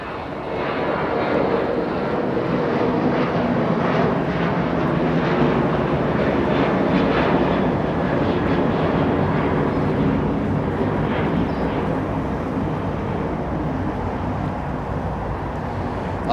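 An American Airlines Boeing 787 Dreamliner arriving from Dallas passes at Los Angeles International Airport, its jet engines roaring in a broad, steady wash that swells and slowly fades over many seconds, with no voices.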